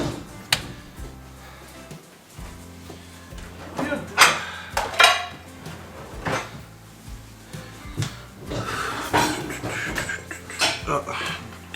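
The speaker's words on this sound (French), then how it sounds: "Casserole lancée à laver avec la poignée" A saucepan with a handle is tossed in with the washing-up, making clattering metallic knocks and scattered clinks of dishes and cutlery against quieter background voices.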